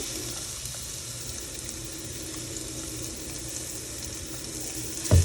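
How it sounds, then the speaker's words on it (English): Chopped jalapeños, scallion whites and garlic sizzle steadily in a hot pan, a constant close frying hiss with a brief clunk near the end. "I'm gonna go ahead and add my my chopped jalapenos, my scallion whites, and my garlic directly to this pan"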